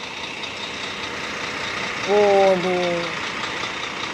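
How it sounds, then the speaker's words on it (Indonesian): A tour bus diesel engine, said to resemble a Scania, runs with a steady rumbling drone; a man briefly exclaims midway while a harmonic tone rises above the engine. "Ini dari suara mesin mirip-mirip Scania ya."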